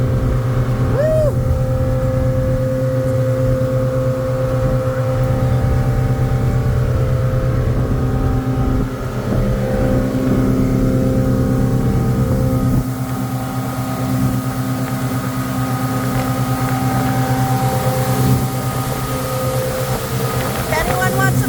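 A motorboat engine drones steadily out on Okanagan Lake, a loud, even hum with wind rushing over it and faint voices at times.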